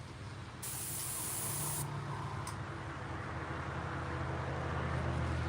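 An airbrush sprays acrylic paint in one steady hissing burst of about a second, followed by a brief puff, over a constant low background hum.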